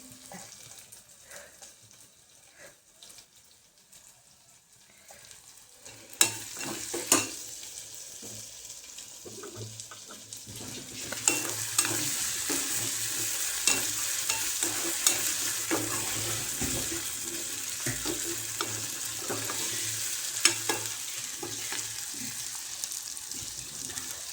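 Curry leaves crackling in frying spice masala in a pan, quiet at first, then a steady sizzle with sharp pops and stirring scrapes once the leaves go in, close up with no talking.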